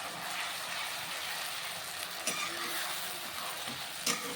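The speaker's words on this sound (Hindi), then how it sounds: "दोस्तों इसमें हम टमाटर की प्योरी, इसको अच्छे से मिक्स कर लेंगे अपनी सब्जियों के साथ" Vegetables sautéed with tomato puree in a pan, a steady moderate sizzle with a few scraping clinks of the spoon as it stirs the mixture, and no talking.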